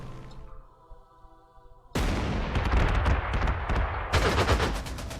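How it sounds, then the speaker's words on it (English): An aircraft strafing a tank in the World War II strategy game Panzer Corps, 1940 near Lille: after a fading engine tone, heavy rapid machine-gun fire erupts and rattles loudly for several seconds, then a second burst, with no talking. "he went for a strafing run on the tank"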